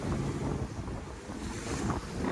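Sea waves surging and breaking at Mamachi Vasari point on the Malvan coast in Konkan, a continuous close wash of surf mixed with heavy wind buffeting, no voices.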